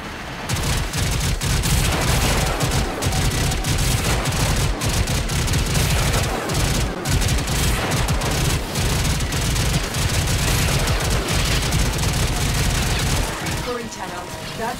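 Heavy sustained gunfire pours onto the exposed Fomorian core in Warframe, a dense continuous barrage of rapid shots with booming low end, loud and unbroken throughout, with faint game voice audio mixed in.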